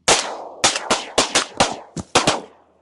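Rapid volley of shotgun blasts during a duck hunt, about eight sharp, loud, close reports in quick bursts, each with a short echoing tail, no talking.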